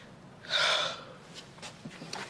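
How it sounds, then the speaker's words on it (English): A single deep inhalation taken during a medical examination, close and fairly loud for about half a second, then fading into quiet breathy rustle. "Take a deep breath in."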